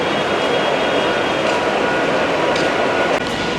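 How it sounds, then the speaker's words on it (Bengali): A train at Sealdah railway station gives a constant loud rumble and rolling roar, heard from on board or close by, with faint metallic clanks now and then and no speech. "এই ট্রেনটা ধরে আমরা আস্তে আস্তে এগিয়ে যাব।"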